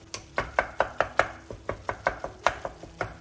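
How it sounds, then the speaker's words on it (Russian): Minced meat simmering in a pan is chopped with a spatula for eggplant dolma, giving a rapid series of about fifteen sharp, close taps at a steady rhythm with no talking. "нам сейчас лопаткой нужно вот так мясо немножко порубить"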